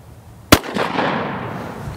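A single loud shotgun blast with a low brass, low power shell cracks sharply outdoors, followed by a rolling echo that fades slowly.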